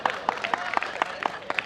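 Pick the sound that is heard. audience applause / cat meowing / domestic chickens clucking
audience applause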